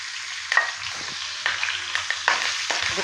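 Curry leaves and two chillies spit and crackle in hot oil, sharp popping bursts over a continuous close sizzle, with nobody speaking.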